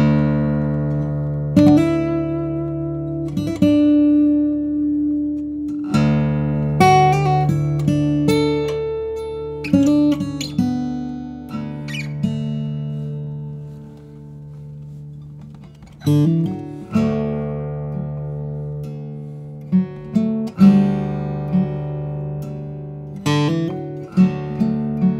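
A 1998 Olson SJ acoustic guitar with Indian rosewood back and sides and a cedar top, played alone up close, mixing ringing strummed chords with picked single notes that sustain and fade, no voices.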